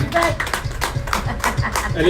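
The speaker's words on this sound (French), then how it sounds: "il veut bien nous applaudir aussi" A group claps in steady, dense bursts at a gathering, close and fairly loud, with voices talking over the applause throughout.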